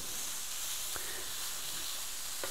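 Chicken breakfast sausages sizzle steadily in a pan over reduced heat, a continuous broad frying hiss with a couple of brief sharp pops and spatula clicks, no talking.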